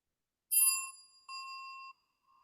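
Two bright chime dings ring out in quick succession, clean and close, each tone sustaining briefly before fading, with a faint third tap at the end.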